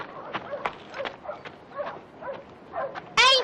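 Dogs bark and whimper in short, irregular yelps and whines, some near and some farther off, ending in a louder burst.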